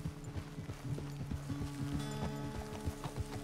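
A horse walks in the video game Red Dead Redemption 2, its hooves clip-clopping in a steady, fairly quiet rhythm without any talk.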